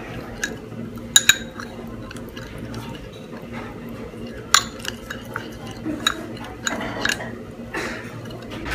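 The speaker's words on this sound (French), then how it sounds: "Mélanger tout ça" Eggplant being mixed with vinegar in a bowl, with a utensil scraping and stirring and occasional sharp metallic clinks against the bowl, while people talk nearby.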